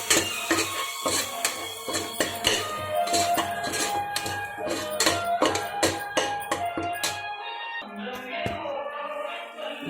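A spoon stirring onions with chili powder, curry masala and mutton masala in a metal pot for goat trotter curry, giving rapid, repeated clinks and scrapes that fade near the end.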